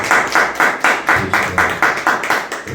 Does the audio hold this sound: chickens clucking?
no